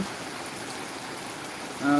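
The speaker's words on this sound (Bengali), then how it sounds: "অনেক অনেক দিন পর আমাদের এলাকায় বৃষ্টি হচ্ছে" Steady rain falling outdoors in a Bangladeshi neighbourhood, a dense even hiss of drops that swells slightly louder at the very end.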